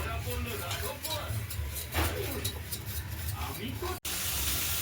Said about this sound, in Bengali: আজকে যে মুগের ডালটা বানাবো, এই যে ভেজে নিচ্ছি